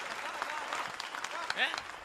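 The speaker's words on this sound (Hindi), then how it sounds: "ताली बजाओ" A comedy show audience claps in a dense, moderate burst of applause, with some voices mixed in.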